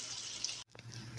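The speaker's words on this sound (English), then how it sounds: "Now I'm going to pour a little water and let it start to steam down." Water pours into a pot of pork chops, a steady hissing splash with a brief break partway through, close and fairly loud.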